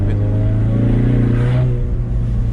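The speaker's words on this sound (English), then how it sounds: "Can hear the turbo boy." A 2020 Ford Mustang EcoBoost engine revs steadily with a deep drone, a higher whistling turbo whine rising and falling briefly as it revs up and settles.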